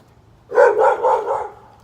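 A dog barks repeatedly and loudly behind a fence, a burst of four or five agitated barks running together over about a second, then fading off.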